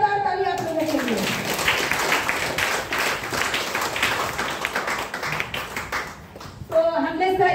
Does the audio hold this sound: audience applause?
yes